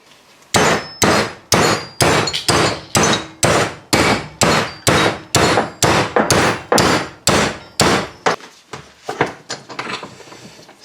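Metal shock mount tabs on a pre-motorsport Opel Kadett project are hammered together in a fast, even series of about twenty sharp clanging blows, loud and close, slowing to a few lighter taps at the end.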